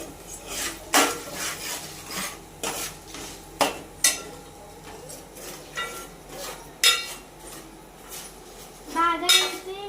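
A utensil scrapes and clinks against a pan as food is stirred and fried with salt, a healthy dish for small children; repeated sharp metallic strokes come at an irregular pace over a faint sizzle, close and fairly loud, with no talking.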